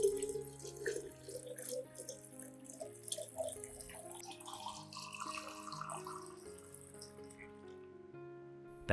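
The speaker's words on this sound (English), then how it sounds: "Then add 1 liter of clean water to dilute the solution." Clean water runs and splashes steadily from a tap as it is added to dilute a turmeric plant-care solution, a continuous moderate trickle with shifting tones, close by and free of talk.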